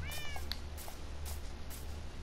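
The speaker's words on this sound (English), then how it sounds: "That cat's just still following me." Cat meowing in the Minecraft video game, one short rising meow near the start, heard over a steady, fairly loud background hum.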